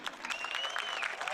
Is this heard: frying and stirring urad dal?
no